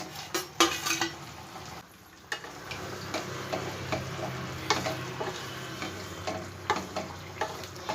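Eggplant pieces drop into a pan of simmering masala gravy with boiled potatoes, giving a steady low sizzle and bubbling with scattered clinks and stirring clatters, close by and without talk.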